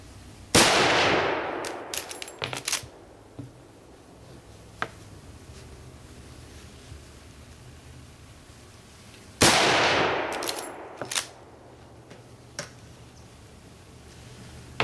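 Two loud 30-30 rifle shots at an outdoor target, each a sharp crack followed by a long rolling echo, spaced several seconds apart with faint handling clicks between.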